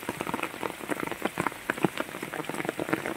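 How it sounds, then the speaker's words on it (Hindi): Heavy rain with large drops pattering steadily onto garden plants, including flowering champa bushes, a dense, close, moderately loud patter with no talking. "अभी बारिश बहुत ज़्यादा बढ़ गई है और बड़ी बड़ी बूंदों के साथ बारिश हो रही है"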